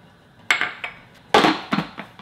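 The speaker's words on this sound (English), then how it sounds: "I'll just cut it into bite-sized pieces." Knife chopping fermented green kimchi into bite-sized pieces on a cutting board, a few sharp, spaced cuts with hard taps close up, no talking.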